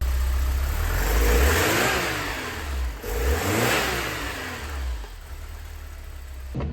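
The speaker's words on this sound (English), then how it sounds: "The engine also revs well, with the idle dropping right back into place." A Porsche 944 engine revs up twice in close succession, each rise swelling to a strong roar before sinking back to a steady idle.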